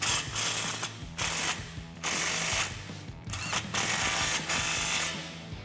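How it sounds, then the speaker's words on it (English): A ratcheting power tool tightens an exhaust clamp on a 1999–2004 Mustang GT or Mach 1 cat-back exhaust. It makes loud, close, clicking whirs in about five repeated bursts separated by short gaps. "Tighten down your clamp."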